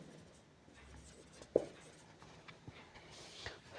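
Writing on a board during a commerce class on profit and loss: faint scratchy marker or chalk strokes with a few soft taps, quiet and close in a still room.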